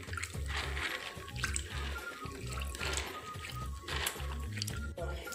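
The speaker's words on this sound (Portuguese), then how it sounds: "Agora eu vou acrescentar mais água e continuar lavando ele novamente." Water swishing and trickling as beans are rinsed by hand in a bowl, continuous close sloshing with rhythmic low thumps underneath.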